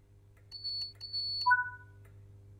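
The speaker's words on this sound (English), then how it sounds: "The guard has given you the clearance for departure by giving you 2 audible beeps from the NHA guard compartment." Guard's departure signal in a West Coast Main Line train simulator game, two clean high electronic beeps followed by two lower acknowledging tones, crisp and close over a quiet low cab hum.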